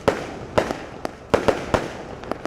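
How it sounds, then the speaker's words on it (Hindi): Fireworks are set off at a welcome ceremony, giving a quick series of sharp pops and crackles at irregular intervals. They sound moderately distant, and no one speaks. "आतिशबाजी भी की गई"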